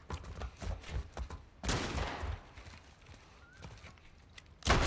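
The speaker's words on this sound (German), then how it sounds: "Schüsse!" Gunfire in the video game The Last of Us, a few sharp loud bursts standing out among scattered impacts and footsteps-like clatter, with the heaviest burst in the middle and another sudden blast at the very end.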